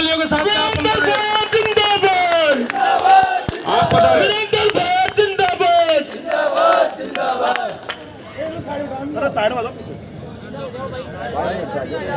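A large crowd at a Rajasthani political rally in Sawai Madhopur cheers and shouts loudly and continuously for leader Virendra Singh. The voices are dense and sustained, rising and falling, and the noise thins somewhat toward the end.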